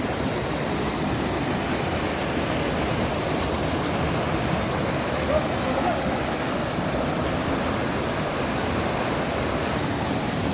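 Steady roar of a waterfall, loud and continuous, broadband rushing water filling the whole stretch with no pauses.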